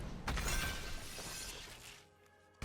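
The Glass Casket card in MTG Arena shattering, a loud bright burst of breaking glass that rings and slowly fades over about two seconds.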